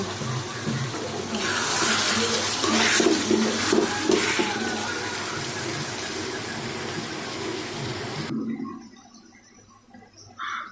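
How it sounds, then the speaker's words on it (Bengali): Cooked food poured from a cooking pot into a separate pot, a continuous sloshing pour close by that runs for several seconds, then stops abruptly. "এখন ঢেলে আলাদা পাতিলে নিয়ে নিব"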